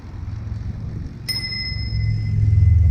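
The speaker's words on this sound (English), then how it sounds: "It's a blind corner, so you heard Joe use her bell." On a recumbent bike ride, a single bright ding from a bicycle bell rings out and lingers over the steady low rumble of riding.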